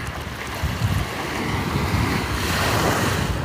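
Ocean waves surging ashore near a fish market in Da Nang, a continuous loud roar and wash of surf with wind buffeting the microphone, no talking.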